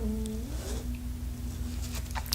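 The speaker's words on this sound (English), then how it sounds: "don't know if you heard that. That was my stomach." A stomach rumbles with a low gurgling sound and a sliding, wavering tone that rises and settles into a steady drone, faint and close, with no talking.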